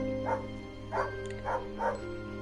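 Four short dog barks from a distance, evenly spaced over a steady low hum, with no one speaking.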